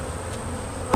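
A dense, steady hum of many honeybees buzzing together at an open hive during a spring inspection, close and continuous, with a brief bump at the very end.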